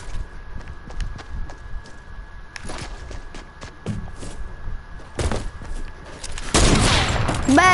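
Sniper rifle gunfire in a Call of Duty-style shooter game: a few sharp, isolated shots spaced seconds apart over soft footsteps and clatter, with a louder, fuller blast near the end.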